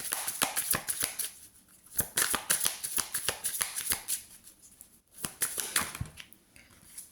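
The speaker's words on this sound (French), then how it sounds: "Allez, on va tirer 5 autres cartes." Tarot cards being drawn and laid out from a deck, a run of crisp snapping and shuffling clicks in quick irregular bursts with short pauses, close and fairly loud.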